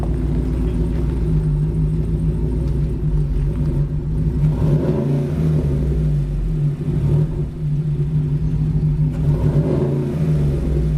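A deep, rumbling 6.2-litre LS V8 (L86) in a 2017 GMC Sierra pickup idles and swells through a few revs, steady and close, with no talking.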